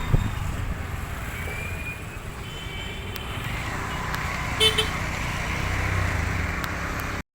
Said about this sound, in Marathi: रस्त्याचं काम चालू असल्यामुळे ट्रॉफिक लागते